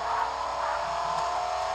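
A pickup truck drives in the video game Fortnite, its engine a steady, continuous mid-range drone that holds at an even level throughout with no talk over it.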